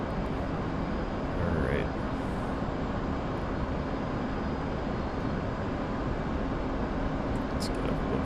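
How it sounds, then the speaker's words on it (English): An F/A-18C jet in DCS World rolls with afterburner lit, a steady loud broadband roar filling the whole stretch without change, while a voice speaks briefly over it. "we're going to throw it in the afterburner and just keep rolling"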